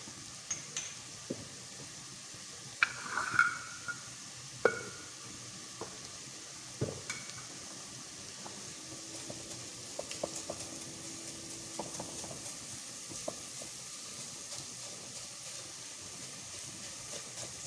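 Carrot halwa with sugar and khoya is stirred and roasted in a pan, with a soft continuous sizzle under intermittent scraping and knocking strokes of the spoon, close and fairly quiet.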